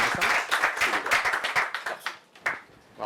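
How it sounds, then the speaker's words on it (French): Loud audience applause and clapping fill a bar during a science talk event, dense and sustained, with brief dips before swelling again. "je vous demande de faire un tonnerre d'applaudissements pour Julien Bobroff"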